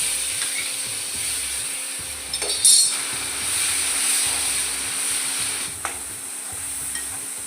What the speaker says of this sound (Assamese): এই মিশ্ৰণখিনি এতিয়া আমি কেৰাহীত দি দিছোঁ তেলখিনি গৰম হোৱাৰ পাছত